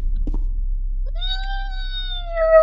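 A cat gives a single drawn-out, rising-then-falling meow close by after a brief scuffling sound, ending with a slight rough catch, over a quiet low hum indoors.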